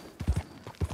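Horse hooves clip-clopping in the video game Red Dead Redemption 2, a few close, hollow knocks in two quick pairs, alone without talk.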